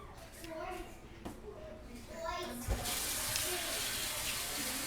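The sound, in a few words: water tap running while washing an apple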